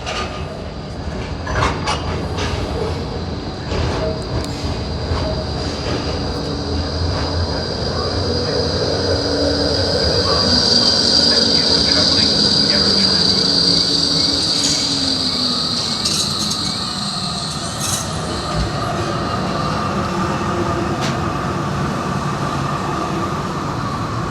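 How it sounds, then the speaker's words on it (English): A Melbourne tram rumbles in and pulls up at a stop, steady rolling noise with a high metallic wheel squeal building in the middle, then easing as it slows. "we'll just wait for this tram to come in."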